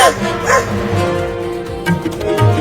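A cartoon dog barks and yips in a short run of loud, close calls, with a few whimpering tones mixed in over a busy animated soundtrack.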